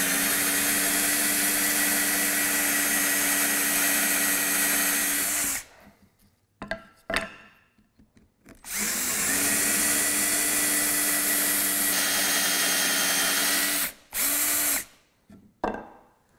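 A cordless drill with a cup saw whines loudly as it bores through reclaimed scrap wood, in two long bursts, followed by short stop-and-start revs and pauses.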